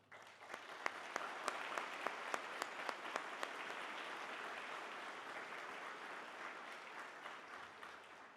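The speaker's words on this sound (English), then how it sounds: "I just want to request a big round of applause for them." A crowd applauds steadily at a military hand-off ceremony in Peñuelas, Puerto Rico, with a few sharp, distinct claps standing out early before the clapping settles into an even roar.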